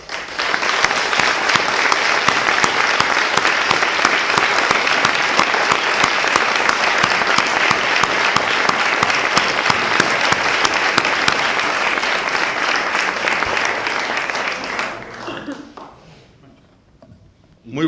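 Sustained, loud audience applause fills a Madrid hall, Casa América, in 2013 as a guest speaker is welcomed on stage. The dense clapping holds steady for about fifteen seconds, then thins and fades out.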